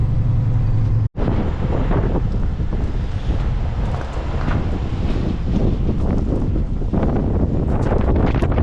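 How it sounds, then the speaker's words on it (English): Steady wind buffeting a microphone on a farm, a constant loud rumbling roar with gusty fluctuations throughout and a brief dropout near the start. "It's a little windy."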